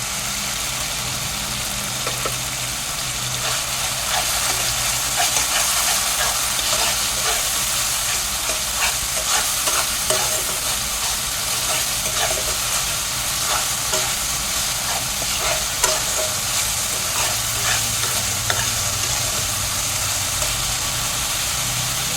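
A paste of ground cumin and coriander frying with cooked-down tomato in oil, giving a loud, continuous sizzle with repeated stirring scrapes and clicks across the whole stretch and a low steady hum beneath, with no talking.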